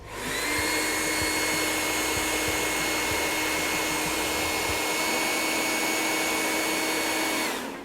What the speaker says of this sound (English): they can put it in front of the blow dryer